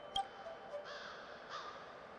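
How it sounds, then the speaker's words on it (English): A crow caws a few times at a distance, faint over a quiet background hum, in the video game Honkai: Star Rail. "Were those crows in the background noise?"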